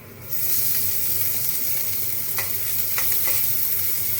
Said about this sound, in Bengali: আদাটাকেও একটু এই তেলের সাথে একটু ভেজে নেব